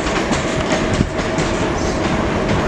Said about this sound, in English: Now leaving platform 2 is a Southwestern Railway suburban service going to Surbiton